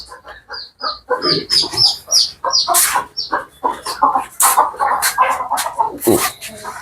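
Chickens on a poultry farm cluck steadily and close by, with many short overlapping clucks and occasional higher squawks throughout, and faint talk in the background.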